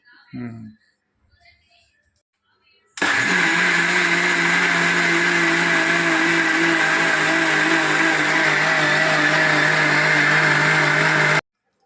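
A mixer grinder jar churns soaked lentils into batter, its motor starting abruptly after a moment of quiet and a brief voice, then running as a loud, steady, close whine for about eight seconds before cutting off.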